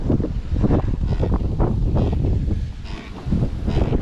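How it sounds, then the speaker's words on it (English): Steady wind gusting across open water around a Hobie kayak on a fishing trip, a broad continuous rush buffeting the microphone with slight dips in strength and no talking. "the wind keeps pushing us over here"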